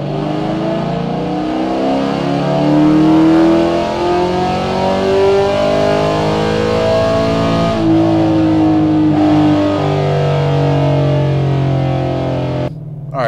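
Cammed sixth-generation Chevrolet Camaro SS V8 on a dyno, loud and close, its engine note climbing steadily through a long wide-open pull before dropping off and cutting out near the end.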